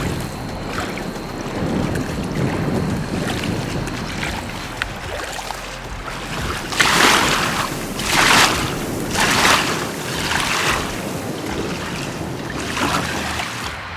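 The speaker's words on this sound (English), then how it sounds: "It's always cool to see that water rushing through there" Overflow water rushing at Lake Padden, with waves and foam, a steady broadband wash that swells in several louder surges near the end, with some wind on the microphone.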